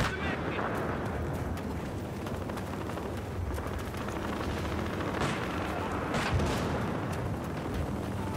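Gunfire from an M1A1 in the Battlefield Hardline video game, with rapid, dense shots and booming blasts running steadily throughout over busy game noise, with a few sharper cracks standing out.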